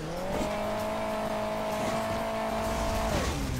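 A car engine in the mobile racing video game Hill Climb Racing 2 drones steadily and loudly, its pitch holding level, then dropping near the end, with a constant rough, noisy whine throughout.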